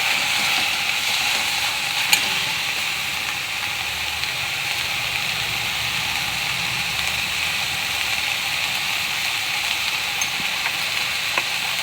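Methi bhaji, fenugreek leaves with salt, sautéing in a pan, giving a loud, steady, even sizzle and crackle throughout with a few faint clicks and no talking.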